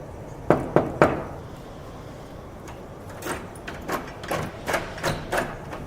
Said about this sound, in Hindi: खट खट की आवाज़ आई है।